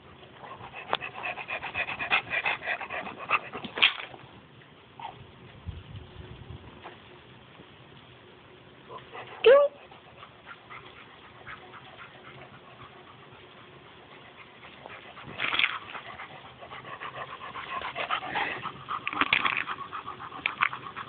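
A dog pants and shuffles nearby, with faint rubbing and scattered sharp whimper-like sounds over a quiet, low-fidelity background.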